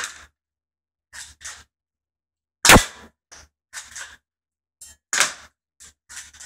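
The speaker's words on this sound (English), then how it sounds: "I just know it as UK Arms 1911 spring pistol" A UK Arms 1911 spring-powered airsoft pistol fires 0.12 g BBs at close range: several sharp separate cracks with gaps between them, each followed by a fainter tick as the pellet strikes the target.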